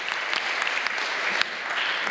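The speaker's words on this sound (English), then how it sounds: "if you're happy to be here, clap for God. Clap for God." A church congregation clapping during a Sabbath service, a dense, sustained round of hand claps filling the room at moderate volume, with a few sharper claps poking through.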